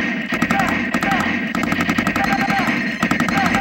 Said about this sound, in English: And the gun, you can hear it. There's a recoil solenoid